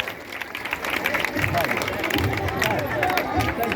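A stage-welcome crowd applauds a minister with steady, dense clapping under busy crowd murmur and voices, sustained throughout.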